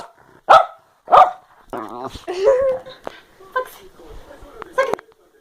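An angry dog barks loudly and close in two sharp, separate barks, then growls and yelps, while a person talks over it in short bursts.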